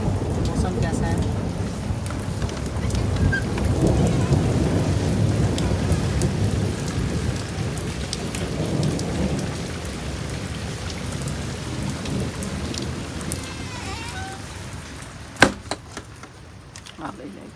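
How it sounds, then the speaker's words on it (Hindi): Heavy monsoon rain pours steadily with rolling thunder rumbling through it, then a sharp crack near the end as the downpour continues. "बीच बीच में बिजली की गड़गड़ाहट कितनी तेज़ है"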